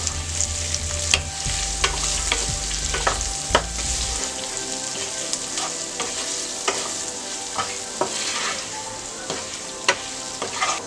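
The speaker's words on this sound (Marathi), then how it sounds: "हळद, लाल मिरची पावडर, चाट मसाला, सगळं व्यवस्थित परतून घेऊया।" Potatoes sautéing with turmeric, red chili powder and chaat masala for aloo jeera crackle in a pan, with a steady sizzle and repeated sharp scrapes and taps of a spoon stirring, close and clear without talk.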